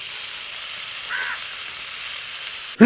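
Fish coated in masala roasts in a pan with a steady, close hiss of sizzling oil throughout, ending in a brief clatter.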